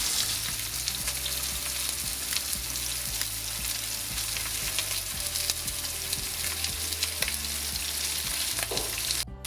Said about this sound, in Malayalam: ജസ്റ്റ് 2 മിനിറ്റ്സ് വൺ സൈഡ് ഒരു മീഡിയം ഫ്ലെയിമിൽ ചെയ്യുക.